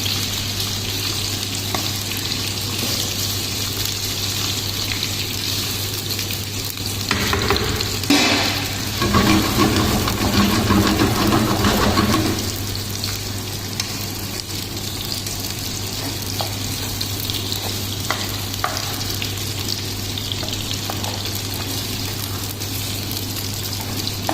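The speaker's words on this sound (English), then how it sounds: "So you have to mix well and have to saute well" Chicken sausage is sautéed and stirred in a curry gravy, producing a continuous loud sizzle with a low steady hum beneath it and a busier burst of stirring and bubbling partway through.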